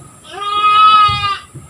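A goat bleats once in a long, wavering cry at a goat handover ceremony on Sangiang Island. The bleat is close and loud, with a low rumble of background noise.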